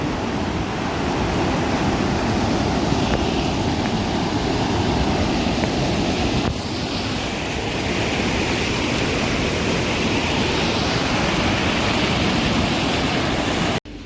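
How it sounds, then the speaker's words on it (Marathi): A village river running full after rain, a broad steady rushing roar of flowing water heard close and continuously with no speech, its texture shifting slightly midway. "लागून बघा नदी आहे. पाणी भरपूर आहे पाऊस पडल्यामुळे नदीला बघा"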